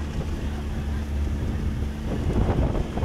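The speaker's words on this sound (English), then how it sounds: "Wind has definitely kicked up a little bit." Wind buffeting an outdoor microphone during a collegiate heavyweight rowing race on open water, a loud low rumbling roar that swells in gusts and strengthens toward the end.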